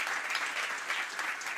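Sustained audience applause fills the whole stretch, a dense, steady crackle of many hands clapping together with no pause, fairly loud and close.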